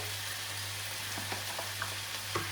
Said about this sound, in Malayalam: ഉള്ളിയൊക്കെ ഒന്ന് ചെറുതായിട്ട് വഴന്ന് വന്നിട്ടുണ്ട്